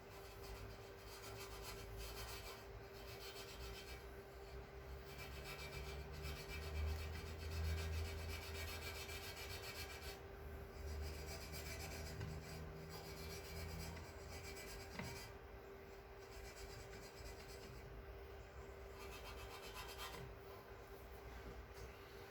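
Blade scraping an old gasket off a Ford Fiesta ST engine part, repeated rough rasping strokes at close range over a low steady background hum, with brief pauses between passes.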